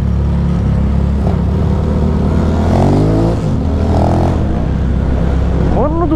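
A Honda Titan 150 converted to a V-twin engine cruises on a highway, its loud steady engine drone and wind rumble rising and falling slightly with throttle, while someone talks excitedly over it.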